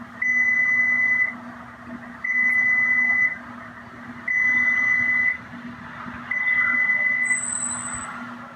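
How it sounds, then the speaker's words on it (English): A kitchen-style timer sounds four loud, evenly spaced electronic beeps, each lasting about a second. A steady low hum sits underneath, and a brief higher chirp comes near the end, with no talking. "So Scruffy, the timer's gonna go off in about 10 seconds."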